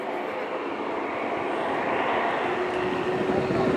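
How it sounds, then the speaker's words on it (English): A steady, roaring jet engine on a Jet Pitts aerobatic biplane at the Blackpool Airshow, a broad continuous rush that swells slightly louder toward the end as the aircraft passes. "It just sounds so weird, hearing that jet engine and there's a pits in front of you."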